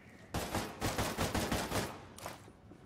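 Rapid bursts of automatic gunfire in the military shooter game Ghost Recon Breakpoint, loud and dense for about two seconds with a short final burst after a brief pause.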